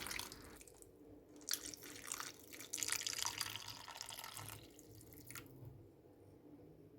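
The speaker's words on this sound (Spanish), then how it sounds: "Echamos un vaso de agua en la bandeja." A glass of water poured into a roasting tray of suckling lamb with a rosemary-topped garnish, a splashing, dripping trickle running for several seconds with no talk.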